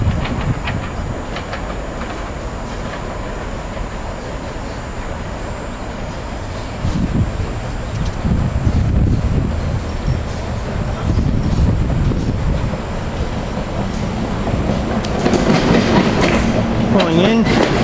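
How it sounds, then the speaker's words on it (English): SEPTA Silverliner IV commuter train 580 pulling into a station, a steady rumble of wheels and rail cars growing louder with clickety-clack rhythm and some squeal toward the end, close by. "Here we got Scepter Train 580 coming in."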